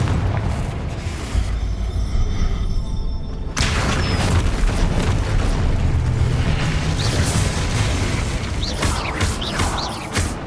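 Loud, dense booming blasts from the Confringo fire spell in Hogwarts Legacy, a continuous roar of explosions and crashes that fills the whole clip with a sharp cut partway through and no break.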